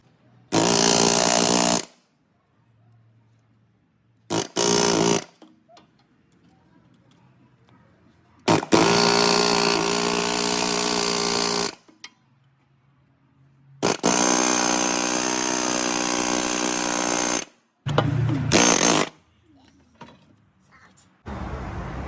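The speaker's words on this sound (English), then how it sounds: "We are going to use air hammer soon to remove the CV axle from the bearing." Pneumatic air hammer driving out the passenger-side CV axle on a Toyota Sienna, loud close rattling bursts of a few seconds each, separated by quiet gaps.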